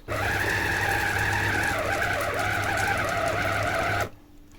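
A steady, loud mechanical whir of a 1300 W electric meat grinder grinding pork for about four seconds, then stopping abruptly.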